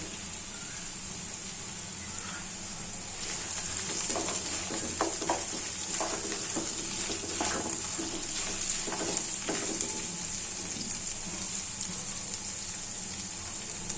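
Ingredients for chirer polao (flattened-rice pilaf) frying in a pan, a steady bright sizzle running throughout with soft stirring clicks and scrapes joining in from about four seconds on, close and moderately loud.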